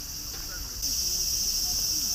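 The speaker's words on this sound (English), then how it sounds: "I've heard they sound a little different in this area of Japan compared to other cicadas" Cicadas in a park in Kansai, Japan, drone in a continuous high-pitched buzz that swells louder partway through. Faint background sounds sit beneath the steady insect chorus.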